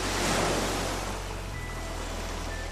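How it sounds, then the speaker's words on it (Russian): Ocean waves and surf at Santa Monica beach roll in a steady, loud wash of broadband noise, swelling at first then settling into a constant roar, with faint wind and no voices. "Санта-Моника – это такая мекка серферов, хорошей волны и замечательного климата."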